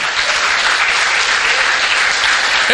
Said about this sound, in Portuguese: Aplauda o Senhor, amados.